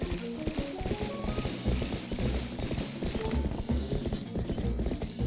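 Rhythmic hoofbeats of a horse galloping in The Legend of Zelda: Twilight Princess, a busy, continuous clopping with clattering mechanical undertones, loud and close, without speech.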